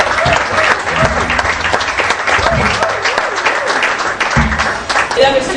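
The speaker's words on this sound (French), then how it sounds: "est-ce qu'on peut applaudir?" An audience applauds loudly and steadily at an evening stage event as a young woman is introduced. Dense, continuous clapping fills the whole stretch, with a voice briefly heard near the end.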